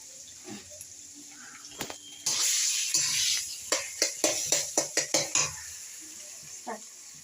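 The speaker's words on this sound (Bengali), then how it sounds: "আদাগুলো দিয়ে দিলাম, আদাগুলো কষাতে কষাতে" Metal utensils clatter and scrape against a pan in a quick run of sharp strokes while sautéing ginger, with a faint sizzle underneath and brief quiet stretches.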